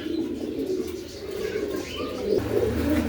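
Pigeons coo at a small home pigeon farm in Bangladesh, soft repeated throaty coos overlapping close by, with faint chirps and no voices.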